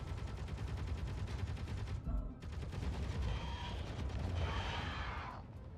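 Rapid automatic gunfire from Space Engineers aimed at a spider creature, continuous loud bursts of shots with a brief pause before firing resumes.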